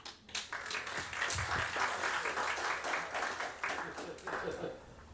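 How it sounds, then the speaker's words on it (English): An audience applauds through a coffee-and-conversation gathering, sustained clapping of moderate loudness, with voices mixed in. "While you're still clapping"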